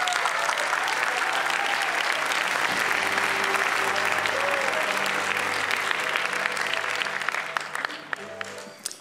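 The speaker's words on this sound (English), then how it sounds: "Please join me in a warm round of applause for Claudia Abate Dabat." Audience applause fills a Monte Carlo Peace Jam evening event, a dense, steady wash of many hands clapping for about nine seconds before tapering off at the end.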